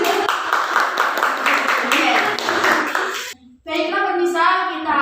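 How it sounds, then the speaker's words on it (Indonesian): Brief burst of clapping and applause for Bapak Adi during a school podcast, dense hand claps filling the first few seconds before a short pause and a voice resumes. "boleh berikan tepuk tangan sebentar itu Bapak Adi"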